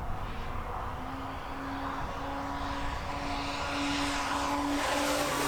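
A Hangar 9 OV-10 Bronco 30cc RC airplane makes a high-speed pass, its engine drone holding steady as a loud sustained tone and then throttling back to a lower hum, with no talk over it.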